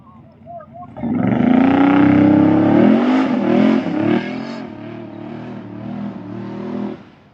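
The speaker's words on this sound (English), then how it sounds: "this guy's probably gonna do a burnout too" A truck does a burnout nearby, its engine revving hard into a loud, sustained roar with tire noise that wavers and then eases into a lower steady drone.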